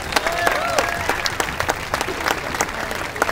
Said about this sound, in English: A round of applause for the Ashwood School students.